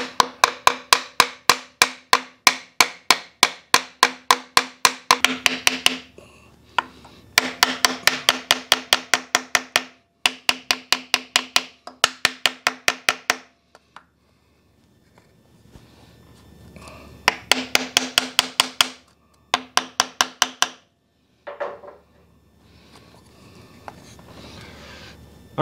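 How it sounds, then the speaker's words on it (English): A homemade hardwood block, oak or hickory, taps a rear main seal sleeve into place on a 7.3 Powerstroke engine. Rapid, sharp, close knocks come in several fast bursts separated by short pauses, with a long quiet stretch partway through. "Take your homemade chunk of oak, hickory, any type of hardwood. Little tap, little tap."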